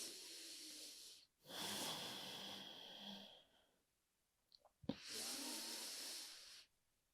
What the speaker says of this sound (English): Breathe, breathe, breathe.